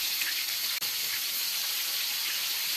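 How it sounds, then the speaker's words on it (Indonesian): Steady, bright hissing and sizzling of tempeh frying in hot oil, continuous and close, with no talking. "Lanjutkan dengan menggoreng sisa tempenya."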